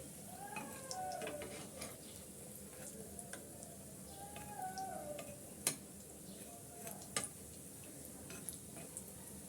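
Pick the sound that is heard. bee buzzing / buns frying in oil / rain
buns frying in oil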